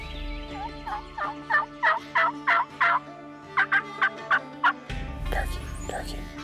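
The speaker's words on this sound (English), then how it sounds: "Turkey, turkey." Wild turkey gobbling in the spring woods during a hunt, a close series of about a dozen sharp, rapid gobble bursts in two runs, with a soft rustle at the end.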